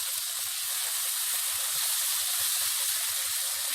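Chopped tomatoes hiss and sizzle steadily in a pan of frying onions, with soft low clunks as the mixture is stirred.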